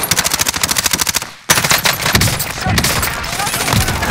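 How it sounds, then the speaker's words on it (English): Automatic weapon fire in Call of Duty: Modern Warfare, a fast, loud, rhythmic burst that stops briefly and then resumes as dense continuous shooting, with voices under the gunfire. "Taking shots."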